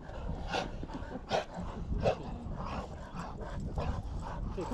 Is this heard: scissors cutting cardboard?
no